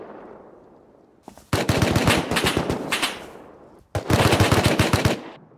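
Rapid automatic gunfire in the survival game Rust, two sustained bursts of loud, closely spaced shots separated by a brief pause, with no talk.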